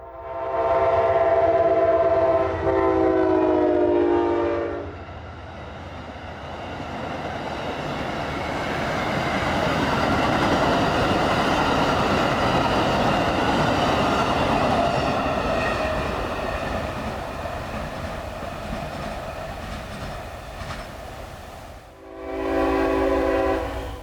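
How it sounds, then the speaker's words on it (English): Amtrak passenger train PO91 heading south for Miami at Folkston, Georgia sounds a loud chord horn, then roars past with rumbling rail noise, and the horn sounds again as it moves on. "Amtrak PO91 heads south for Miami"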